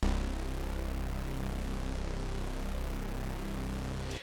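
A dense, buzzing synthesizer tone from a Vital patch with a gritty, noisy texture and a subtle rapid pulse holds steady for several seconds, then stops.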